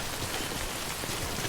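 Heavy timefall rain pours down in the video game Death Stranding, a dense, loud, unbroken hiss of drops striking the ground.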